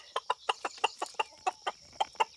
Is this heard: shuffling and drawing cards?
no